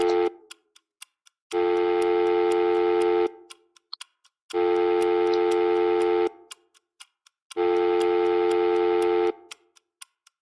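A telephone line rings through to the president in the video game Coldline: three long, loud electronic ring tones separated by pauses, with faint regular ticking clicks running throughout.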